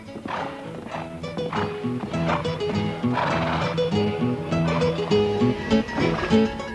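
A horse performs haute école dressage, doing the Spanish walk and canter pirouettes, with steady hoof clip-clops and a brief whinny heard over sustained musical tones.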